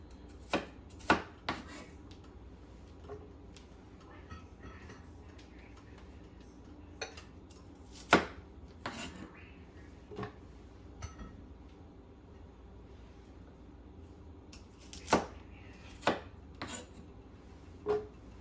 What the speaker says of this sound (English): And I'll give it a better cut since it's kind of fibrous.